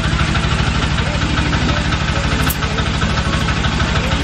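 A cable car (tarabita) motor runs steadily up close, a loud, continuous mechanical hum and rumble with a constant engine vibration throughout, on a river crossing in Ecuador's eastern region.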